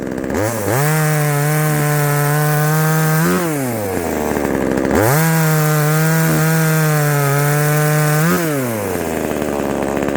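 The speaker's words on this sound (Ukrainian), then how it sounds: "Чи зручно різати одноручною пилкою?" A one-handed saw cuts firewood in two long, steady stroke runs, each rising and falling in pitch with a loud, continuous rasping whine, close up.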